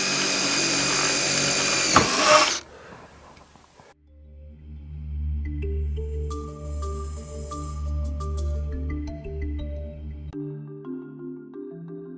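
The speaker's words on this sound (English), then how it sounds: "drill one of these, pre-drill it, and then after that point I can pull onto the bracket itself and push the self-tapper through" A power drill pre-drills holes for self-tapping screws in a shed verandah bracket. It makes a loud, high whine for about two seconds, then cuts out abruptly, and tonal music follows.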